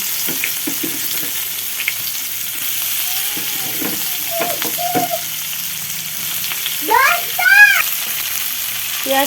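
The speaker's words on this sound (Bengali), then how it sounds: "পেঁয়াজটা ভেজে নেবো এখন" Sizzling of onion frying in hot oil, a steady crackling hiss, with clinks and scrapes of stirring and some bird-like chirps in the background.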